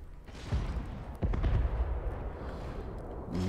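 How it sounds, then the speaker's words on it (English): Deep booming cannon blasts from a fantasy strategy video game go off in quick succession, heavy thuds layered over a rumbling backdrop with a faint voice underneath. "Love the sound of those cannons."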